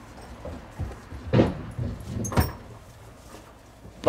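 Central Asian shepherd dogs guarding cows on a farm near Gilău, Cluj, give a couple of loud, separate barks over a quiet outdoor background, with no talking.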